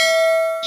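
A single bright notification bell ding rings out clearly and sustains as a pure ringing tone, alone with no talk, ending with a short shimmer.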